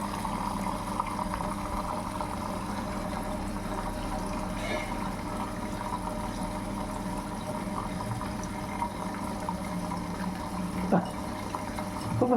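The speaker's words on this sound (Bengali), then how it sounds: "প্রথমে জল নেওয়া হয়ে গেল, এবার তাহলে লিকুইডে জল নিচ্ছে" A washing machine takes in water through its liquid detergent compartment, giving a steady, close rushing flow of water that holds level throughout with a faint pump-like hum underneath.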